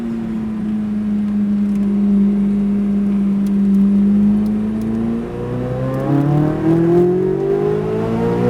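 A Chevrolet Corvette Z06 accelerates down the straightaway at Hedge Hollow Raceway in Adrian, Missouri, its engine note climbing steadily through the gears in a loud, continuous rising drone heard from close by, with no talking.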